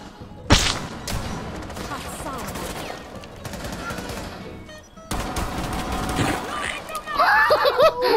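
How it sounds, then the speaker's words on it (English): Gunfire in Rainbow Six Siege, bursts of automatic shots and sharp single cracks loud at the start then scattered through the clip, mixed with game effects, with voices and laughter audible underneath. "I got a headshot through the wall!"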